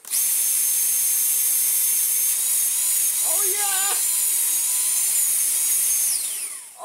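A toy Henry vacuum cleaner fitted with a Dyson motor whines loudly and steadily at a high pitch, with a brief warbling chirp partway through, before spinning down at the end; a voice exclaims briefly over it.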